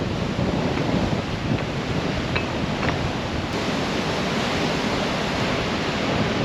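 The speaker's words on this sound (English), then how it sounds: "Those are some strong waves too." Strong ocean surf on Bonaire's volcanic rock shore roars steadily and loudly, a dense continuous wash of crashing water with wind buffeting the microphone throughout.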